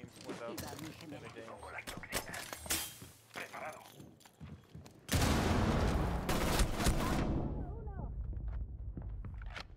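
Rapid gunfire bursts in a video game firefight, with shots crackling from a window position; sporadic shots give way to a loud, dense barrage in the second half, and voices talk over it throughout.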